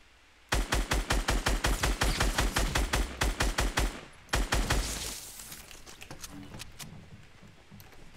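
Rapid automatic gunfire in a Fortnite Battle Royale match: a long rhythmic burst of loud, close shots, a brief pause, then another volley that fades into scattered distant pops, with no voices over it.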